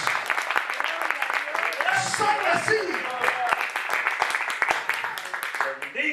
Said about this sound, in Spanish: Denle ese aplauso fuerte a Jesús.